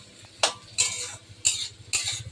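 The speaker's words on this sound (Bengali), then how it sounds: "সেই জন্য আলু ভাজছি" Potatoes frying in a pan for a meal with leftover rice, onion and chilli, with a few sharp utensil scrapes and stirs against a quiet sizzling background and no talking.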